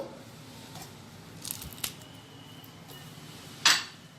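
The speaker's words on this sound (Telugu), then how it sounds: "మనం తీసుకున్న పచ్చిమిరపకాయని ఇలా తుంచి వేసేసుకుందాము" Green chilies being torn and dropped into a mixer jar with coconut pieces, faint snapping and light taps, ending in a sharp clink against the jar, quiet and without talk.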